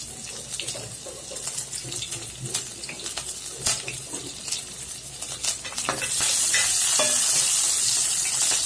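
Garlic, ginger and green chili go into hot oil for Indian-style spicy pasta, with scattered clinks and scrapes that give way to a loud, steady hiss of sizzling near the end.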